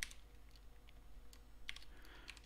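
Typing on a computer keyboard while entering input for a Python while-loop program, with a few sparse, quiet key clicks over a low hum, close and faint.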